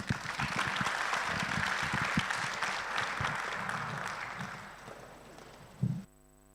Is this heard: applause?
yes